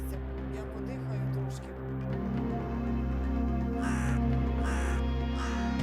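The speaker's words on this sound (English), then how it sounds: "A crow's cawing." A crow caws several times in short harsh bursts, standing out over a steady low droning background with faint murmuring.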